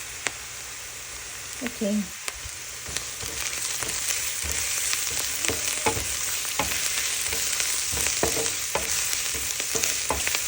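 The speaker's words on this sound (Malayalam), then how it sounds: "ഇച്ചിരി വെളുത്തുള്ളിയും ഇഞ്ചി ചതച്ചതിട്ട് കൊടുക്കുകയാണ്." Garlic and crushed ginger sizzle steadily in hot oil in a pan while being stirred, a continuous close frying hiss with brief stirring scrapes throughout, and a single short spoken word near the start.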